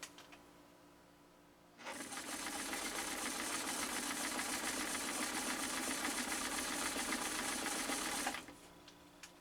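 A 1972 Kenmore 1318 sewing machine stitching through two layers of elk hide, running as one steady, close mechanical whir with a fast rhythmic needle clatter, starting after a quiet moment and stopping abruptly near the end.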